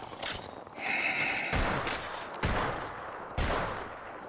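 Bursts of rapid automatic gunfire in the video game Apex Legends, loud and close, coming in several heavy volleys with short pauses between them.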